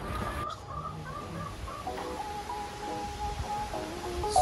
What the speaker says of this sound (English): Oh, there is chicken in there. It's like a chicken house.